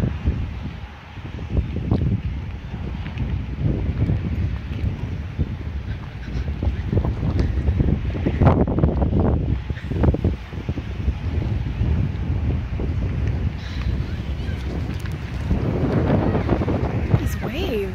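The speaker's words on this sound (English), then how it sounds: "Dude, look at these waves, bro. It is so windy." Strong wind roars at an ocean beach, buffeting the microphone in a constant, loud rumble that buries the crashing waves, with voices faintly under it.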